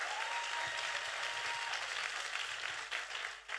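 A church congregation gives steady, loud applause in praise of the Lord, with dense continuous clapping that tapers slightly toward the end.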